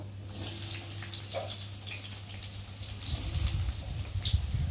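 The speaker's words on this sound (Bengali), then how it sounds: "আর এখন এই তেলের মধ্যে আমি এখন পেঁয়াজগুলো দেব" Onions are dropped into hot oil in a pan already holding oil-coated chicken in a home kitchen. A steady soft sizzle swells after a few seconds into louder, denser crackling.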